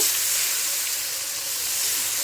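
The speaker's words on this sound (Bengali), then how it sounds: "কষানোর জন্য সামান্য একটু পানি দেব" Water splashed into a frying spice mixture of blended garlic, bay leaf and vegetables for a bottle gourd and fish dish sets off a steady, loud, hissing sizzle that stays even throughout.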